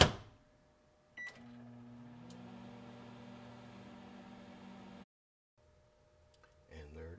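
A microwave oven heating scrambled eggs: a click, then an even electrical hum for about four seconds that cuts off abruptly, followed by quiet and a few small handling clatters.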